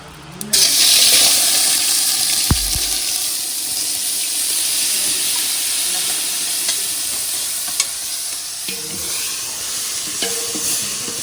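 A tomato roasting directly in a hot pan with a little oil, giving a strong sizzling hiss that starts abruptly and continues steadily, close up, with occasional clunks of the pan and no talking.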